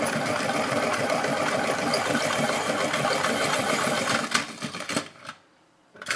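A Helix A5 pencil sharpener grinds a pencil in a dense, rapid, buzzing rasp up close. The sound runs steadily, then stutters and cuts off to near silence before one final scrape.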